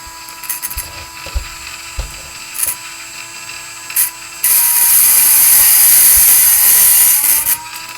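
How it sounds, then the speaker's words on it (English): Dremel rotary tool grinding down a plastic suspension link for a Redcat Ascent 18 RC crawler, a steady high-pitched whine holding for about three seconds after a few light clicks and taps. "So we'll just take a real quick Dremel down"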